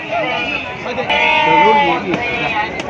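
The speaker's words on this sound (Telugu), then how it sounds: "ఈ మేకలు అనేది చూపిస్తాను" Goats bleat with wavering cries in a busy livestock market at Gudur, close and loud, while people talk over and around them.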